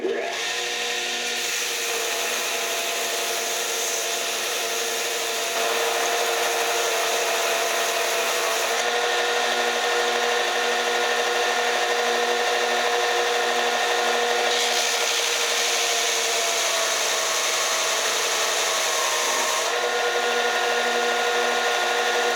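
A Rikon 50-114 belt/disc sander grinding against wood under heavy pressure, a loud continuous motor whine with a rough abrasive rasp that shifts in intensity as the workpiece is pressed and eased, no voices.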